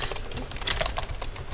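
Java code being typed on a computer keyboard: a quick run of close, crisp key clicks in an irregular patter, heard alone with no voice over them.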